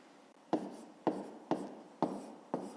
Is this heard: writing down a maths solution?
yes